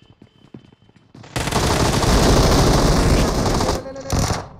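Sustained loud burst of rapid automatic gunfire in the mobile battle-royale game BGMI, lasting a few seconds after quieter clicks and movement, then a short final burst.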